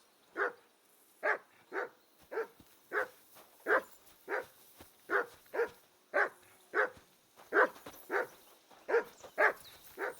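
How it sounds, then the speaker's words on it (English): A dog barks in Kingdom Come Deliverance 2 video game, about fifteen evenly spaced sharp barks in a steady rhythm, moderately close and fairly loud, with no speech over them. "Call off that damn dog before he wolfs down the last of our mates."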